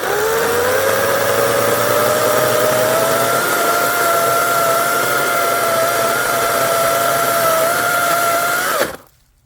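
A Stihl MS-250 chainsaw runs outdoors at a steady, high-pitched buzz, close and loud for several seconds, then stops abruptly near the end.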